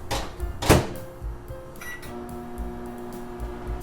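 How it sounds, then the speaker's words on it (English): A microwave oven softening a stick of butter in a bowl hums steadily after a sharp thunk of its door and a few button beeps, the low drone continuing alone in a quiet kitchen. "I am putting it in the microwave to soften the butter"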